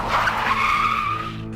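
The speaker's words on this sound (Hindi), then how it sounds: "दोनों ही अपनी गाड़ी का ब्रेक लगाते" Cartoon vehicles brake hard in a horror adventure story, a loud sustained tire screech running the whole moment alone, fading slightly at the end.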